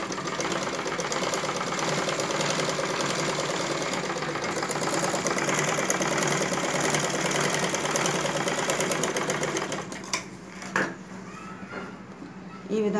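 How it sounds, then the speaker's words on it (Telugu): Sewing machine stitching the neckline of a dress, a steady continuous mechanical whir running for about ten seconds before slowing and stopping in a few short bursts. "నెక్క ముడి కుట్టుకుందాం."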